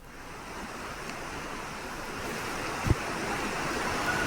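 Floodwater from the overflowing Batang Beringin river rushes in a steady, dense roar with no pauses, carrying a faint wind-like hiss and one brief thump near the end.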